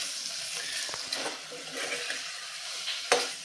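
A spoon stirs yogurt into a potato and pea curry in a pan over low heat, soft scraping and wet swishing with a faint sizzle and a sharp clink near the end.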